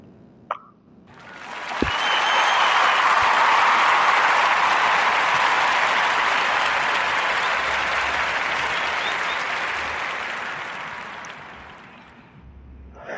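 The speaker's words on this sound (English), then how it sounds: "Going to give a warm narrative Round of applause for Miller, Howard, and the Beta Way" An audience gives a warm round of applause on a podcast episode, a dense burst of clapping that swells quickly, holds steady for about ten seconds, then fades out near the end.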